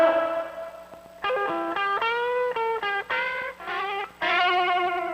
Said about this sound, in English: Reverberation, or reverb, which continues or extends the sound, much like an echo.